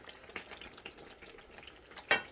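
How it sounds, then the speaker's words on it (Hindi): Chicken korma frying in desi ghee, with a soft, steady sizzle and light spoon stirring, ending in a sharp clink of metal on the pan. "अब इसको मज़ीद भूनते हैं यहाँ पे"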